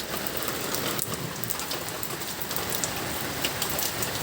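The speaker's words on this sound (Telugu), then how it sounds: "విపరీతమైన వర్షం ఆటోనగర్లో." Heavy rain falls at night in Autonagar, a dense, constant close-up patter of drops hitting surfaces with no breaks and no voices.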